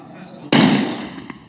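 A rifle shot on a 300-metre target range during a SWAT team competition in the UAE: one sharp, loud, close report that rings out and fades over about a second.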